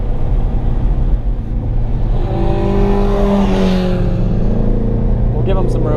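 A 900-horsepower Nissan Silvia S15 drift car engine drones loudly and revs up with rising pitch on a road course, heard from close by with a constant roaring rumble underneath.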